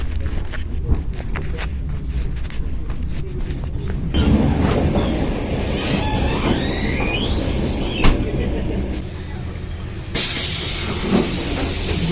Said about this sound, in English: the train now heads out into the deep, dark countryside of Ukraine